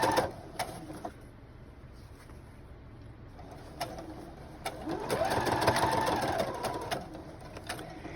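A sewing machine stitches along the edge of a book bag strap, running in steady bursts with a louder sustained run midway, close and clear, while faint bird cooing sounds in the background.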